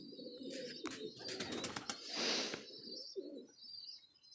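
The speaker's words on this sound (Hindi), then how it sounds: "ज़बरदस्त शानदार कबूतर हैं माशाल्लाह।" Highflyer breeding pigeons in a loft coo in soft, throaty rolling phrases close by, mixed with a few chirps and a short flutter of wings.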